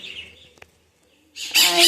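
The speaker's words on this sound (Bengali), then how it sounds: "শালিক আমার এই ঘরটাতে না পাখি প্রচুর আসে প্রচুর" Myna birds chirp and chatter, a soft call at first, then a loud burst of busy, overlapping calls nearby after a short pause.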